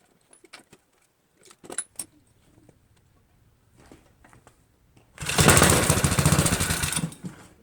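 A mini bike's small engine is primed with carburetor cleaner and fires up after a few faint clicks and rattles, then runs loud and raspy for a couple of seconds before cutting out.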